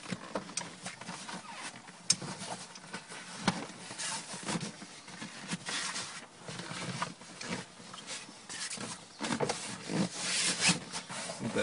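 An Exmoor fabric seat cover is worked down onto a Land Rover Defender front seat, giving close, irregular rubbing and scuffing of cloth against the seat with occasional sharper scrapes and no talking.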